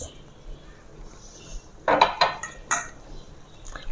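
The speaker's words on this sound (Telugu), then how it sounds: "మధ్యలో ఒకసారి కలుపుతూ ఉండాలి" Spoon scraping and knocking against a pot of gongura chicken curry as it is stirred, a few clustered clinks and scrapes close by over a quiet kitchen background.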